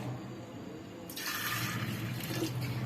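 Tap water pours steadily into a glass for a summer sattu drink, starting about a second in and running on as a close, continuous splash and hiss.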